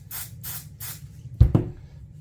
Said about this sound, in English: Go ahead and give a little bit of spray right before the metal woven part.